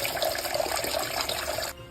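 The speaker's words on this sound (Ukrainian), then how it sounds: "і заливаємо воду." Water pours steadily into a soup pot, roughly two litres, a loud continuous splashing gush that cuts off abruptly near the end, with no talking.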